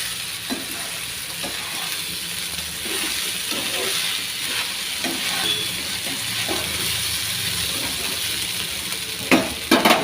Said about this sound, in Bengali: এবারে সাবুদানাটা দিয়ে দিলাম, দিয়ে হালকা নাড়বো